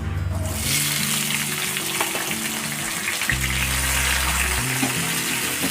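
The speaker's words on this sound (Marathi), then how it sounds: "व्यवस्थित असा फ्राय करून घ्यायचा दोन ते तीन मिनिट कांदा आणि टोमॅटो" Chopped onion and tomato fry in hot oil with cumin and mustard seeds, giving a steady, close sizzle that runs the whole time, with low stirring thumps from the pan and no voices.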